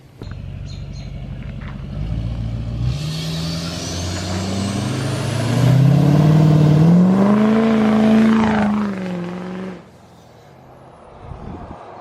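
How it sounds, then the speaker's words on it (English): A truck engine idles loudly up close after an air filter change, then revs up into a rising roar before dropping off abruptly, with a brief hiss near the end. "Truck's running great."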